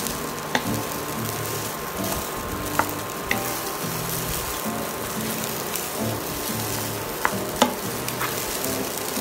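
Garlic fried rice frying in a pan, a steady, bright sizzle with occasional stirring scrapes and light clicks, close and continuous with no voices.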